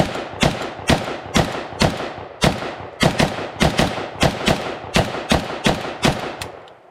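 A pre-ban Mitchell Yugoslavian AK47 rifle fires at an outdoor range, about fourteen loud, sharp single shots at a steady, evenly spaced semi-automatic pace, each with a brief ringing tail.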